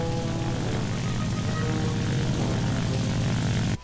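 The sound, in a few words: propeller plane engine in a video game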